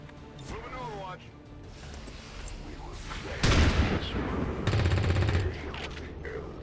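A shotgun blast and other weapon fire in the XCOM 2 War of the Chosen video game, several loud bursts with crackling debris over steady game ambience.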